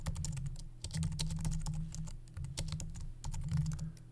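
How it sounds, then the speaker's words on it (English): Quick, rhythmic clicks of keys on a computer keyboard type an album title, with short pauses between bursts of keystrokes, close and fairly quiet, with no voices. "So we type in our album title,"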